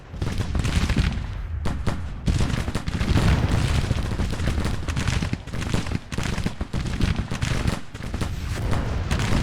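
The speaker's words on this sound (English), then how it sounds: "That should get them to start firing at the range they're at." Civil War infantry volleys in the strategy game Grand Tactician: dense, continuous rattling musket fire and booming shots roll on for the whole stretch, loud and layered like a sustained battlefield fusillade.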